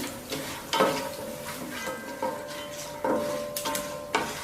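Peanuts, chana dal, urad dal, mustard seeds and cumin fry in oil for a South Indian tempering, giving a soft steady sizzle with several sharp stirring clinks of a spoon against the pan.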